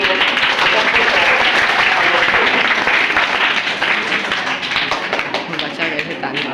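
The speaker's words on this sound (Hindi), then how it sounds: "So please give a big hand for our chief guest, Muzaffar sir." An audience gives a chief guest a big round of applause, dense and loud clapping that fills the whole stretch and eases slightly toward the end.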